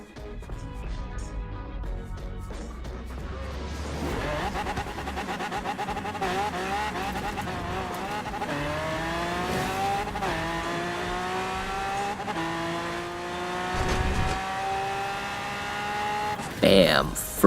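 A race car launching from the start in the rain in a Forza video game, its engine revving up through rising gear shifts with tire squeal, loud and continuous, with a brief burst of noise near the end.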